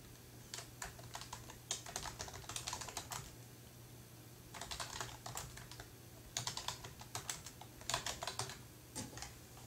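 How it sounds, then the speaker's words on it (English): Typing on a computer keyboard in bursts of rapid key clicks separated by short pauses, close and fairly quiet, with no talk. "you will type the title of your project"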